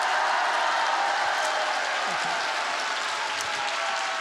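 A church lecture congregation in Korea clapping together in sustained, even applause, a steady dense roar of hands held at one level, with no voices over it.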